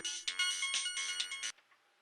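A phone ringtone sounds from a broken phone in a horror film scene, a bright melodic electronic ring playing steadily for about one and a half seconds before cutting off abruptly, clear and alone.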